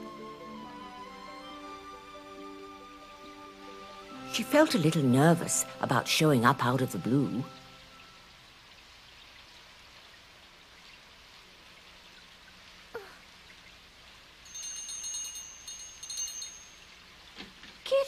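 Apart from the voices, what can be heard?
rain falling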